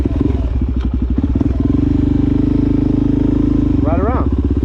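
A 2020 Suzuki DRZ400 supermoto with a Yoshimura exhaust rides along a beach at night, its single-cylinder engine thumping loud and close in a steady drone, with a brief rising rev near the end.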